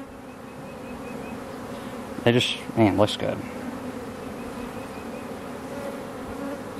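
A dense, steady hum of many honey bees buzzing close by at a hive, continuing throughout while someone speaks briefly in the middle.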